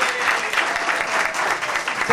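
Audience applause for a musician at a band's show, a dense steady wash of clapping hands that holds at an even level for about two seconds.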